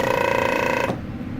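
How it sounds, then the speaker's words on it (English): A medical vacuum pump running on its lowest setting gives a steady, fairly loud mechanical hum with a tonal whine, then cuts off abruptly partway through, leaving only low background noise. "I'll show you the pump in action. That's the lowest setting."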